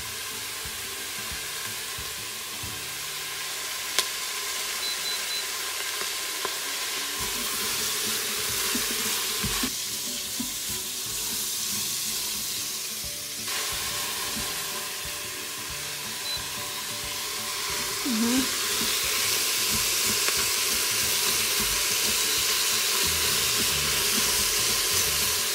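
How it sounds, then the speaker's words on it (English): Beef frying in a pan with onion and garlic, a steady close sizzle and hiss running throughout with occasional faint stirring scrapes, no talking. "I'm gonna put my beef."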